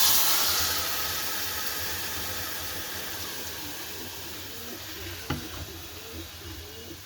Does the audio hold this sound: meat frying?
yes